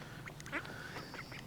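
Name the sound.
ducks quacking, mallard crossed with Indian runner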